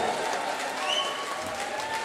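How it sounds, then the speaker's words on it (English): Crowd applause fills Rock City, a steady wash of clapping from a large concert audience at a show with a faint tonal sound drifting over it. "Give a big round of applause."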